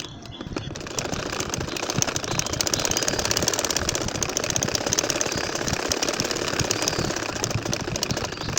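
A sewing machine stitches a nakshi kantha quilt with a steady, rapid mechanical whir and chatter, loud and close, starting after a brief quiet moment.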